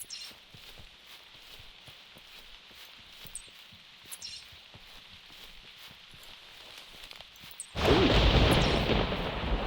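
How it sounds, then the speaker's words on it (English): Thunder in theHunter: Primal, a sudden loud crash breaking in near the end after a quiet stretch of soft ambient ticks and patter, then rolling on heavily. "the thunder will really scare the crap out of you"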